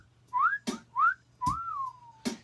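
Whistling recorded into a studio microphone for a music loop: short rising whistled notes and one long falling tone, close and clear, separated by sharp percussive hits.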